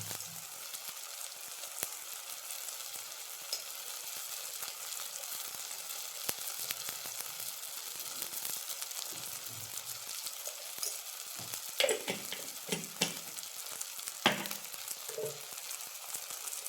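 Masala frying in a pan for a mango fish curry as spice powders go in, a soft, steady sizzle at low volume with a few spoon scrapes and light clatter near the end, no voices.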